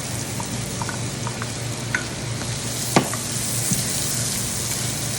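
Onions frying in butter for a chicken pot pie filling, a steady moderate sizzle with a few light utensil taps and one sharper clink near the middle.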